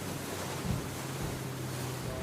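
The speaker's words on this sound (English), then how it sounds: "The waves are coming at us like the teeth of a chainsaw" Wind and choppy lake water slapping against a small boat riding low in the stern, a steady broadband wash of spray and gusts with a soft thump partway through, fairly faint.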